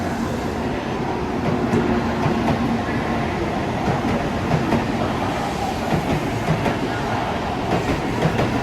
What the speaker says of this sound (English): Another bullet train.